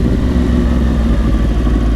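A 2010 Yamaha R1 1000cc sport bike engine drones steadily and loudly while riding, a continuous close mechanical roar with no breaks.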